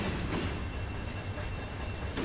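A loaded freight train of rock cars rolls past steadily in Run 8 Train Simulator, a continuous loud rumble of wheels on rail with faint clicking and no talk.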